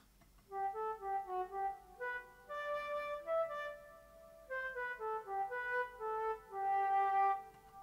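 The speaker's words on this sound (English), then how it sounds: "one line only, being played on a sample of a flute" A simple two-bar melody played as a single line on a sampled flute: soft, clear legato notes rising and falling at a moderate pace, fairly quiet, with no voices.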